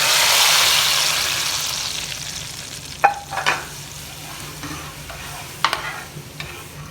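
Tempering of golden-browned garlic and fried chillies poured into cooked moong dal, giving a loud hissing sizzle at the start that fades into a steady crackle, with a few sharp clinks of a spoon or pan.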